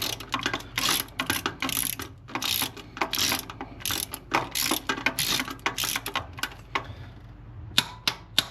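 Bolts on the compressor of a 2010 Subaru Forester are torqued with a ratchet, giving close, loud bursts of rapid clicking in repeated runs with short pauses between them.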